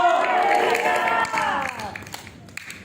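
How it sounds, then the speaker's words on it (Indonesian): A church congregation at a senior community worship service claps and cheers, with loud raised voices at first that taper off into scattered claps. "Beri tepuk tangan yang paling meriah buat Tuhan kita."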